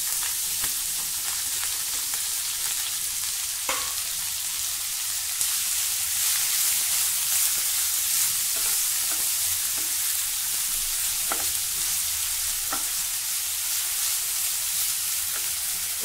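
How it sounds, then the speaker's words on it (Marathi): Grated potato sizzles steadily in a hot pan with green chillies, a continuous bright frying hiss with a few soft stirring knocks, close and alone without talk. "मिरच्या व्यवस्थित परतवून घेऊ. त्यानंतर यामध्ये हा बटाट्याचा किस घालायचा आहे."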